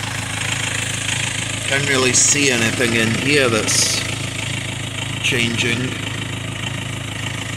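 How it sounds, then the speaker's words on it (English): A 2.2 Ford Transit diesel engine idles close by with a steady low rumble and an idle fault, its pitch rising and falling slightly, while someone talks over it. "I'm going to change some parts and see if it stops this revving up and down."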